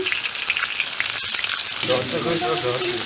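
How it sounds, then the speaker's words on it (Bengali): Fish roe dropped into hot oil in a village kitchen, a loud dense hiss that grows into bubbling, spattering frying after a couple of seconds, close and continuous with no voices. "আমি এখন তেল দিয়ে দিলাম, মাছের ডিম ভাজি করব।"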